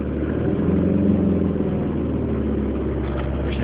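A 1990 Volvo 760 Turbo idling after a cold start at 6 degrees in deep snow, a steady low engine drone close to the microphone, unbroken throughout.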